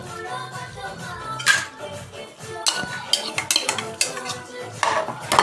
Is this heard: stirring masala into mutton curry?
yes